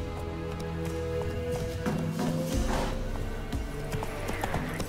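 Hooves clip-clop in a quick rhythmic gallop in The Witcher 3: Wild Hunt over a low background drone, with occasional clatter and a brief rise in loudness midway.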